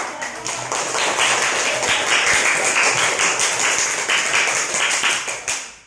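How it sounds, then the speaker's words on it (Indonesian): A primary school class claps together in a sustained round of applause, many hands beating fast and loud for several seconds before it stops abruptly. "Beri tepuk tangan keras."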